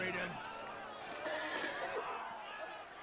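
Horse neighs and whinnies in a video game, a high shrill call near the start with more horse noise under excited players talking over it throughout.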